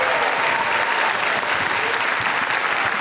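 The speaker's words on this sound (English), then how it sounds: "can we please clap for all of our newly elected town meeting members?" A large audience at an annual town meeting claps for newly elected members, a loud, dense and sustained wash of applause filling the room without any break.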